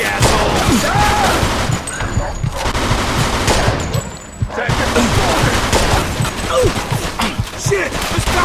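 Rapid gunfire from the video game Mafia II rattles in dense bursts close by, with shouting voices mixed into the firefight.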